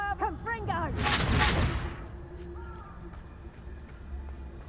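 Confringo spell cast in the Hogwarts Legacy video game, a loud fiery burst swelling for about a second after a short voiced shout, then fading into quieter background game sounds.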